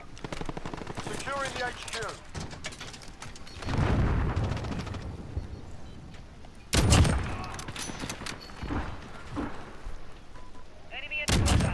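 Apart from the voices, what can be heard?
sentry gun firing in Call of Duty Modern Warfare video game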